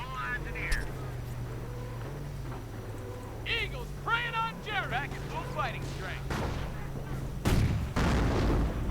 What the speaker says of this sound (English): The rockets are falling, suppressing, doing a bit of damage, burning those dastardly airborne a bit